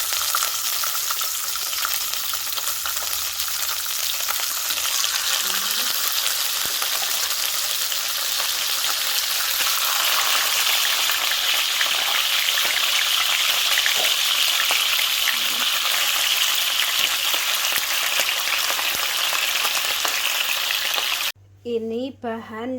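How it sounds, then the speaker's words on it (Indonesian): Pindang fish frying in a pan, a loud, steady hissing sizzle with crackling spatters that runs continuously for about twenty seconds before cutting off abruptly near the end. "Nah, setelah aku cuci akan aku goreng pindangnya."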